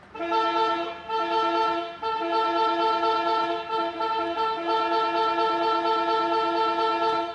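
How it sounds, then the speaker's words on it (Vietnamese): A 2015 Kia Cerato's air horn blares in a loud, steady multi-tone blast, broken by brief gaps near the start and then held almost continuously for about seven seconds, close and alone. "và đây thêm một chế độ còi hơi"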